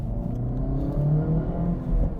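A 2026 Acura Integra Type S with a manual gearbox drives along with a steady engine drone and low rumble from inside the cabin, holding a fairly constant level with slight swells as the revs change.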